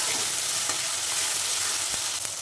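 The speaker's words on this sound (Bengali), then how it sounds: "ভেজে নেব।" Tempering spices with chopped tomato, green chili, turmeric and ginger paste fry in a pan with a bright, hissing sizzle close up, broken by a couple of quick stirring scrapes.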